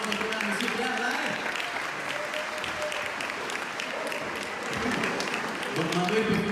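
Audience applause at a French-language municipal show honoring local participants, a steady dense wash of clapping lasting several seconds, slightly swelling toward the end, with voices mingled underneath.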